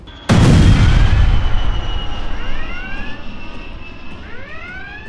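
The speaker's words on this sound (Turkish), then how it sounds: "Sağ kanattan büyük bir patlama sesi daha geldi." A sudden loud blast from the right wing of an El Al Boeing 747 cargo jet followed by a long fading rumble, with high whining tones sweeping upward over a continuing engine roar.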